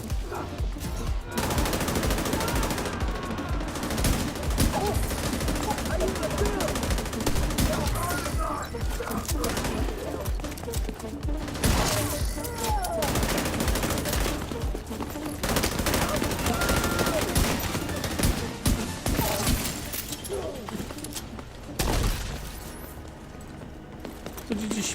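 Rapid gunfire in The Division 2's zombie-like mode, dense bursts of automatic shots running nearly continuously and loud, with a voice speaking over the fighting.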